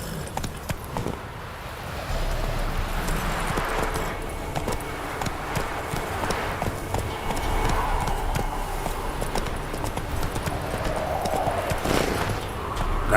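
Hooves of the horse Roach galloping in the game The Witcher 3, a fast, steady clip-clop rhythm that starts after a quiet moment and continues throughout over a low ambient background.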